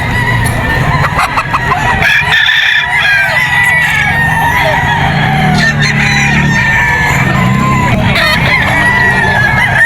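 A Golden Boy sweater gamecock crows at the busy Bocaue pet market, loud and close, among clucking fowl and a steady crowd din.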